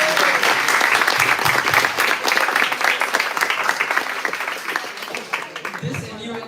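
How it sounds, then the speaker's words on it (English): Sustained applause from a conference audience at a Model United Nations event, dense steady clapping filling the room for several seconds and tapering slightly toward the end. "A big round of applause for yourselves."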